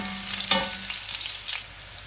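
Chopped garlic and ginger fry in a hot pan with a steady, close sizzle and one brief stir-like clatter near the start.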